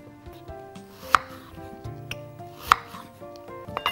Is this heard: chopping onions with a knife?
yes